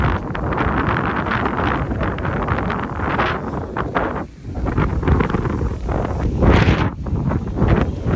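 Steady, roaring wind buffets the microphone outdoors at Magsangyaw, Tupi, with gusty rumbling and a brief lull partway through.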